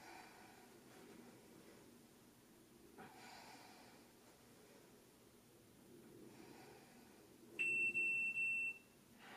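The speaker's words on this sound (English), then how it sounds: "My timer went off." A workout timer alarm beeps once in a loud, steady burst lasting about a second near the end, after a stretch of quiet breathing and room noise.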